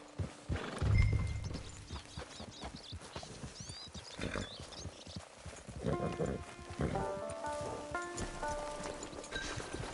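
Horse hooves clip-clop and a horse whinnies in the Red Dead Online video game, set near a camp, with music and ambient sounds around.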